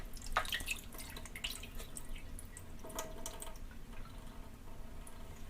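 Brine trickles and drips out of a can of jackfruit into a sink, a faint, irregular patter of small splashes and drops, close and quiet with no talk.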